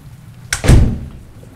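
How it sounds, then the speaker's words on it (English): Loud, close blow against a door in the video game Poppy Playtime, a single heavy thud-like knock with a short sharp onset and a booming low tail, heard alone. "who else could it be knocking at the door at 5 a.m.?"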